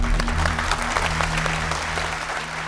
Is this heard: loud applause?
yes